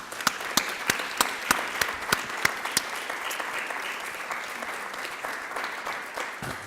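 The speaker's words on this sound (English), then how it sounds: "Let's give them a round of applause" Sustained applause from a sizable crowd at a congressional briefing, with several sharper, louder claps standing out near the start before it settles into a steady wash.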